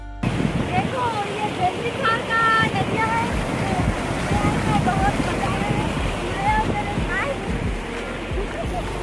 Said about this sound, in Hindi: तो चलो अब मैं ये नदी वाला पूरा पार करूँ। बहुत ही पानी चल रहा है अभी।